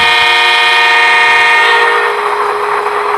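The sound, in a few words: horn of a Roco Z21 DCC-controlled model locomotive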